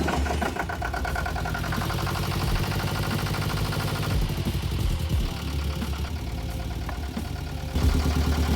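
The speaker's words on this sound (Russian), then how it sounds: "Холодный старт, немножко газку," A yacht engine idles right after a cold start, a loud, close, steady knocking rumble with slight unevenness, rising a little with a small blip of throttle near the end.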